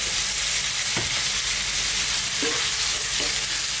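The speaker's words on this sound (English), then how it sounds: "What we're going to be doing is browning our meat now, our beef" Beef browning in a hot pan for an Indian masala curry, a loud continuous sizzle and crackle close up, with a few brief knocks of a utensil stirring the meat and no voices.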